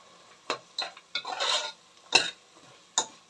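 Masala being stirred and scraped in hot oil for rice bath, with several distinct utensil scrapes and clinks against the pan and a soft sizzle underneath, close and moderately loud, no talking.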